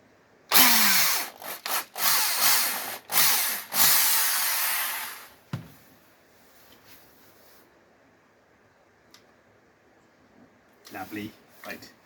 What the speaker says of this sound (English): what I'm going to try and do is drill